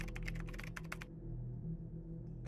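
Rapid keystrokes on a computer keyboard clatter in a close, busy burst for about a second, then stop, leaving a low steady hum underneath.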